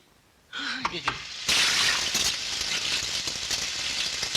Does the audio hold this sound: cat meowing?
no